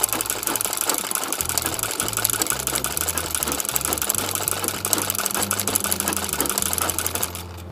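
Domestic sewing machine stitching a dense satin-fill leaf in embroidery, a steady rapid mechanical chatter with clattering needle strokes running loud and continuous until it stops just before the end.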